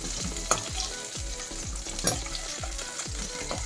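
Green chilies fry in hot oil in a pan for a mint chutney, with a loud, continuous sizzle and rhythmic scraping strokes of a spatula about every half second, up close with no talking.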